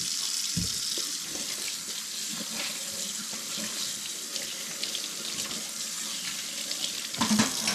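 Tap water runs steadily from a kitchen faucet into a large stock pot set in a sink, a continuous hissing splash with a brief bump of the pot near the start and a louder clunk near the end.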